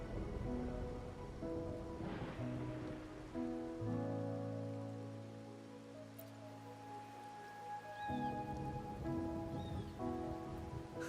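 Steady rainfall in the Wuthering Waves video game, a soft continuous hiss of drops under sustained musical tones and chimes, with no voices.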